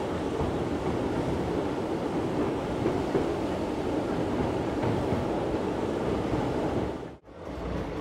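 A train crosses the Pamban sea bridge at Rameswaram, a steady loud rumble of wheels and wind over open water that briefly dips before resuming.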